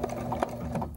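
Sewing machine stitching silk ribbon to anchor a folded rose, a close, steady rapid mechanical whir with quick rhythmic ticks for about a second, no talking.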